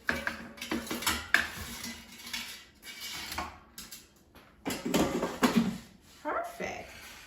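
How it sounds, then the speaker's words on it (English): Frozen flautas are taken out of an air fryer, with clattering basket and tray sounds, metal scraping and clunks in uneven bursts, close by. "Let's take them out of the air fryer."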